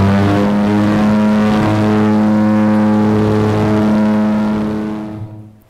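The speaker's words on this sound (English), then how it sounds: "So we set off, and this is the noise of a Twin Otter." Twin Otter aircraft in flight, heard from inside: a loud, steady propeller-engine drone with a strong low hum and broad rushing noise, holding constant for several seconds before fading out.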